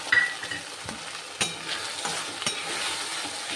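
Onion paste frying in a pan after the onions have browned, a soft continuous sizzle with a few sharp stirring clinks and scrapes at scattered moments.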